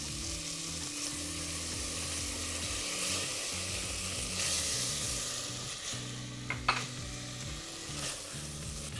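Fish sauce hitting a hot pan of toasted ingredients and brown sugar, giving a steady, loud sizzle and frying hiss throughout with stirring clatter and a few sharper spits near the end.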